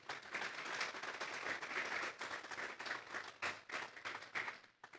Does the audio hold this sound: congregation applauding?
yes